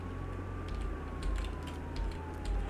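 A siren in the Contraband Police video game: a single steady tone that drifts slowly downward, moderately loud and sustained throughout, over a low engine rumble and faint clicks, with no talk.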